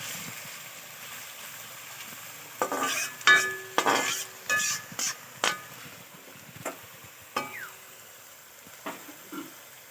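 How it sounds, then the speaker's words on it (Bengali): Shredded potatoes fry in hot oil in a kitchen pan while being stirred, giving a soft sizzle beneath a string of sharp, irregular scraping and clinking strokes that grow sparser toward the end. "দেখো ওই তেলেতে আবারও দিয়ে দেবো আলুগুলো।"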